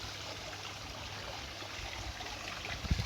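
Steady, gentle trickle of a garden waterfall, soft and continuous, like a small stream spilling over stones, with a brief bump near the end.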